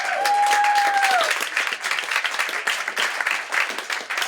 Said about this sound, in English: I know why you're applauding.